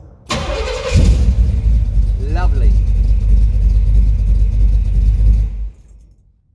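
A 1969 Firebird fired by a push-button start cranks for a moment, catches and settles into a loud, rumbling idle close by for several seconds before shutting off. A voice briefly speaks over the engine.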